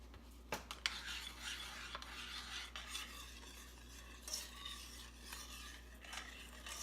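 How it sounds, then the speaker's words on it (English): A spoon stirs sweetener into a cranberry drink until it dissolves, giving soft scraping and light clinks against the glass, quiet and close, with a low steady hum underneath. "I'm just gonna put a couple tablespoons and stir it until it dissolves"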